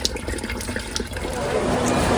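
Water runs steadily from a tap into a sink, a continuous splashing flow that grows fuller and louder toward the end, with some faint background voices.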